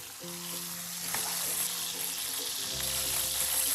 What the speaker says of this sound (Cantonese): 油熱之後咧，我哋可以將隻雞放落去煎一煎佢先